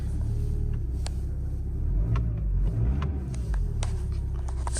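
A car engine turns over and settles into a steady low idle, a continuous rumble close by with faint clicks and ticks above it.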